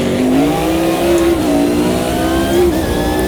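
A GT1 race car engine in the Automobilista 2 racing game at Spa revs hard, a loud, close, continuous snarl with pitch rising and dipping through gear changes.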